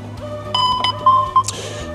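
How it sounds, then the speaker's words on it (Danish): A personal safety app sounds an alert on a phone: a brief run of bright electronic tones and chimes, clear and close, with a short burst of noise near the end. "Den her lyd, som der kommer på egen telefon."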